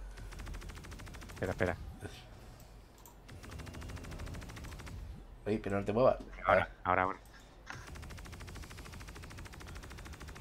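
Bursts of rapid turret gunfire in the video game Star Citizen, from a Hammerhead ship, crackle in short volleys amid excited talking, with quieter stretches between the shooting.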